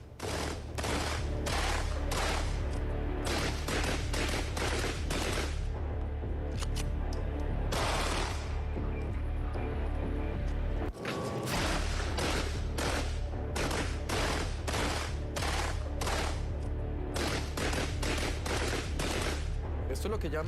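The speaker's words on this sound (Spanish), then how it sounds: "son armas que ellos modifican o las modifican para que disparen de manera automática" Rapid, sustained bursts of automatic rifle fire from gang members shooting at houses in Cartago, using guns modified for automatic fire. Dozens of loud, cracking shots come in dense volleys with only brief pauses, running almost continuously throughout.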